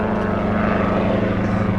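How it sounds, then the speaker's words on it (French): A helicopter passes overhead outdoors, its engine and rotors making a loud, steady, droning rumble that holds evenly throughout. "Encore désolée pour l'hélicoptère qui est en train de passer."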